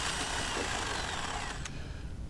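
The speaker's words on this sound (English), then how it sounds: "I'm going to drill all the way until I hit that 1 1/2" clear and reaming it a little bit." A 5/8-inch bit drills up into the bottom of a wooden newel post, giving a steady, loud, close whirring grind that runs without a break and with no talk.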